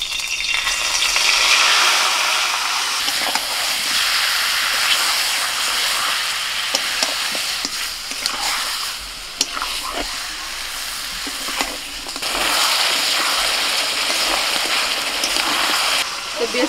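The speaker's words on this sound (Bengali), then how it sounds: "এবার কড়াতে যে তেল আছে ওই তেলের মধ্যে এবার মাংসটাকে কষিয়ে নেওয়া হবে" Young goat meat for biryani sears in a wok of oil left from frying onions, producing a loud, close, continuous sizzle with brief scraping clicks as it is stirred throughout.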